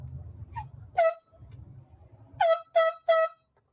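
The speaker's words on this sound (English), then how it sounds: "Biologists later tried again using air horns to flush the bear out." Several short, sharp air horn blasts used to flush out a bear, the last three in quick succession, over a faint low rumble.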